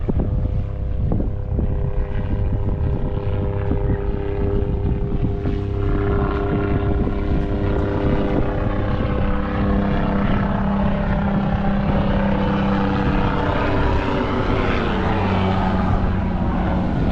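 Low-flying aircraft passing over a sailboat at sea, a loud engine drone that swells and shifts in pitch over steady wind and water noise.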